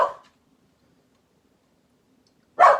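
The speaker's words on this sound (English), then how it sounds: "Sorry about the dog." A dog barks twice indoors, one short bark at the start and another about two and a half seconds later, with near silence between them.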